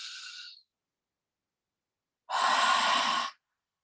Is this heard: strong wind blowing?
no